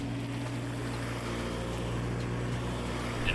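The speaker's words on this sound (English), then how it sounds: "Adjusting the altitude and starting the engine." A Gardena PowerMax lawn mower engine runs steadily nearby, a loud continuous droning hum with a low rumble throughout.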